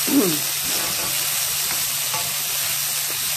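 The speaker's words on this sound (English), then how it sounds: "I'm going to stir it all, because remember that I already have the spices and the little bit of oil that I added" Cauliflower rice fries with onions, spices and a little oil in a pan, a loud steady sizzle with a low hum underneath and a quick stirring scrape at the start.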